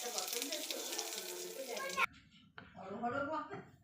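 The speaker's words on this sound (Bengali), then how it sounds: "তো তেলের মধ্যে একটু হিং দিয়ে দিলাম।" Asafoetida (hing) hits hot oil with a bright, hissing sizzle that fades quickly, followed by a voice talking over the quieter frying.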